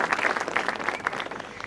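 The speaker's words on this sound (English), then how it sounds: "can we just give the children a huge round of applause for their incredible performances?" Audience applause for children after a school stage performance of Peter Pan, a short, lively burst of many hands clapping at close range.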